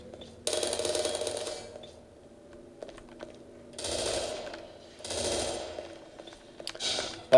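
Automated defense turrets in Half-Life 2 fire in several sustained rattling bursts of rapid mechanical gunfire, loud and fairly close, separated by short lulls with faint background game noise.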